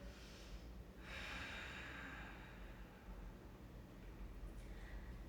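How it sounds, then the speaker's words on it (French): Ujjayi yoga breathing through the back of the throat, a soft, airy, hissing exhale rising after a second and fading, quiet and close, with a fainter breath near the end. "Envoyez toujours l'air à l'arrière de la gorge lorsque vous expirez."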